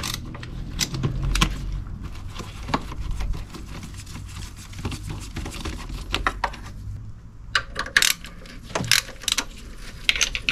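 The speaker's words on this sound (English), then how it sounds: "I'm going to also need to remove this part of the airbox. Very straightforward, it's just a couple of 10mm bolts." Small metallic clicks and ratcheting of a socket wrench removing a couple of 10mm bolts from the airbox of a 2009 Fiat Panda 1.2 Dynamic Eco, close up, in short irregular bursts with scattered taps and rattles.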